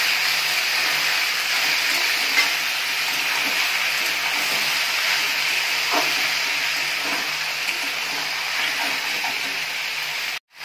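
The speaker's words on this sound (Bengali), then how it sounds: "এবারে আমি এটা একটু ভেজে নেব ভালো করে।" Boiled taro stolons frying in plenty of oil in a kadai give a loud, steady, close sizzling hiss with faint crackles throughout, cutting off abruptly at the end.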